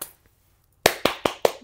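Hands clap against thighs in five sharp, close slaps at a brisk, even rhythm, starting after a short near-silent pause.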